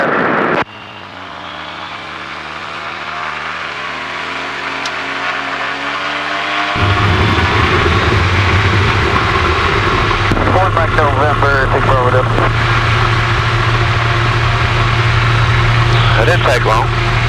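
Kolb MK3 ultralight aircraft with a Rotax 912UL engine taking off, the engine droning steadily then rising sharply to a loud, sustained full-power roar heard from inside the cockpit, with brief voices over it.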